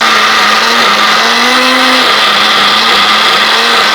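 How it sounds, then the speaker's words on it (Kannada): A kitchen mixer grinder powders roasted cumin, ajwain and ginger with a loud, steady motor whine and gritty whirring that runs unbroken for the whole stretch, with no voices. "ಮಿಕ್ಸಿ ಜಾರಿಗೆ ಹಾಕಿಕೊಂಡು ಪೌಡರ್ ಮಾಡಿಕೊಳ್ತೇನೆ."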